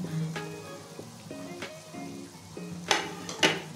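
Fried cauliflower and potato pieces hit a pan of hot oily masala, giving a steady soft sizzle broken by a few sharp clatters and scrapes of stirring.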